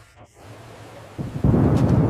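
Storm thunder builds from a low, distant rumble into a louder, sustained roll near the end. It sounds alone, with no voices.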